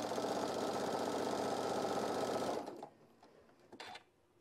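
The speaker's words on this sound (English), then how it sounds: "I'm going to sew over it anyway." A sewing machine runs at a steady fast stitch through two layers of fabric for about two and a half seconds, then stops, leaving only faint handling noises.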